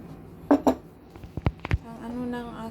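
Mayonnaise sandwich spread being mixed in a bowl, several separate clinks and taps of utensil on bowl, then a soft voice afterward.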